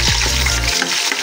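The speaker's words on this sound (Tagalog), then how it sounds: "Okay, nagagisa na kita sang bawang." Garlic sizzles and fries loudly in a hot pan, a bright crackling hiss heard up close with a low hum fading out partway through.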